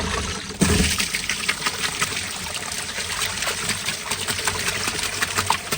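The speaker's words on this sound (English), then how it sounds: "take the black hose that was connected to the trommel and the pump nozzle, and then I'll just spray it down" Water from a black pump hose sprays down a gold trommel, a steady broadband hiss and splatter starting abruptly after a brief pause and running continuously at close range.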